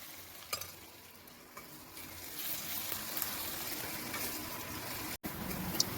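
Onions fry in a pan with a soft, steady sizzle and occasional stirring scrapes, close but fairly quiet, with a brief drop near the end.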